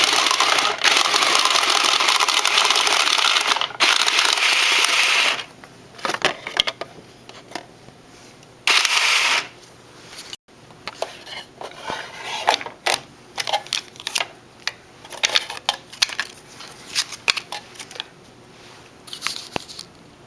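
Battery-powered automatic card shuffler for a board game: an initial whirring mechanical burst, then rapid irregular clicking and snapping of cards falling into place, close and alone.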